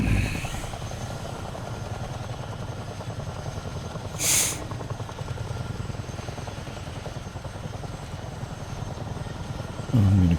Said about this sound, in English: I'll swing the helicopter around and land over here in this grass field.